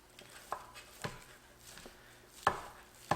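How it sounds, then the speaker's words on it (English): A knife chops smoked brisket on a board, making a handful of sharp, irregular thuds and taps. The strikes are close and fairly quiet, with soft clatter between them and no one speaking. "I've got some smoked brisket here that I cooked earlier today. I'm just going to chop some of this up here."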